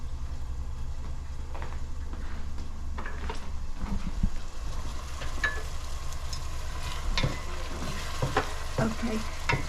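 Onions fry in a pan for an Armenian mussel appetizer, with a steady close sizzle and crackle running throughout and occasional stirring scrapes on top.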